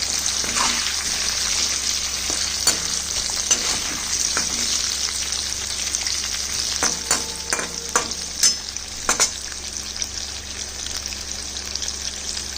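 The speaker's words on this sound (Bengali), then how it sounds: "এবার আমি সামান্য একটু হলুদ গুঁড়ো এবং সামান্য একটু লবণ দিয়ে দিলাম এবং আলুটা সুন্দর করে ভেজে দিলাম" Potatoes frying in a pan with turmeric and salt, a constant close hiss of sizzling oil with scattered clicks and scrapes of stirring that grow more frequent toward the middle, no speech.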